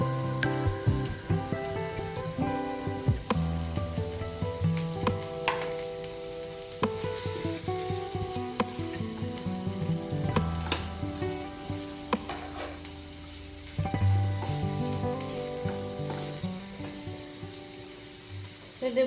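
Chopped onion and capsicum fry in hot oil for paneer cutlets, a dense continuous sizzle up close with occasional stirring clinks and scrapes throughout, no voices.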